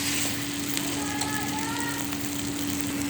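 Potato batter cooks in a pan on the stove, giving a steady low sizzle with a faint hum running through it and no talking.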